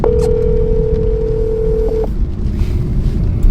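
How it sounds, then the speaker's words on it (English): A phone call being placed gives a steady, loud electronic tone held for about two seconds before cutting off, with a short blip near its end, then faint background hiss and wind without any talking. "Calling my best friend ever, Anton Other."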